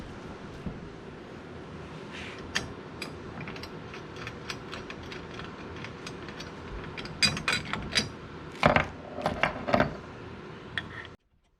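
Carriage bolts being fitted and snugged on a homemade metal bed extender for a Honda Pioneer 1000-5, giving irregular close metallic clicks and ratcheting taps that grow busier toward the end, with no talk.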